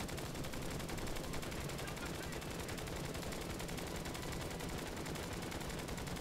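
Continuous rapid machine gun fire from fighter planes in the aerial combat game Flying Tigers: Shadows over China, a dense unbroken rattle at steady level throughout, with no distinct pauses.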